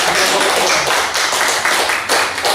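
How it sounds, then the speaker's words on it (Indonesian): Audience applause at a parish gathering with the Long Ayan organ team, loud dense clapping throughout, close and steady with no pause. "Kita berikan tepuk tangan untuk"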